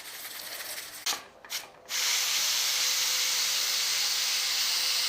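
Steam vents from a pressure cooker used to stew khara masala mutton. A loud, steady hiss is broken by a few short gaps, then resumes as a continuous close rush of released steam.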